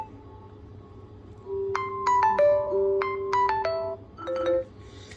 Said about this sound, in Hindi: ये रिंगटोन को हम यहाँ से प्ले करके देख लेते हैं।